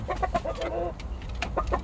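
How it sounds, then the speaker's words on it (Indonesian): A white hen and an orange rooster cluck in short, close, uneven bursts over a low rumbling background, with no talk. "ayam putih saya ini mau saya kawinkan teman-teman dengan ayam"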